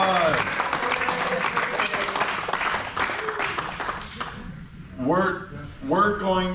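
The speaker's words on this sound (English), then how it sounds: "Give yourselves a round of applause." Audience at a poetry and jazz open mic gives itself a round of applause, steady full clapping that fades out after about four seconds, followed by a voice speaking.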